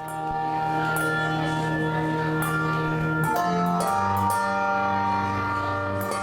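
A handbell choir rings sustained, overlapping bell tones that form shifting chords, a full, steady ensemble sound with bright shimmering overtones and no voices.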